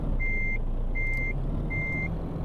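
Reversing beeps from a truck in the Euro Truck Simulator 2 video game: three evenly spaced electronic beeps over a low, steady engine rumble, with no talking.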